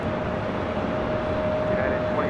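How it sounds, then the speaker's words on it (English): A Spirit Airlines Airbus A321 departing LAX makes a steady, loud jet roar that holds evenly throughout, with a faint high whine running through the engine noise. "That was Spirit Airlines Flight 890 heading to Louisville, Kentucky, and then an A321"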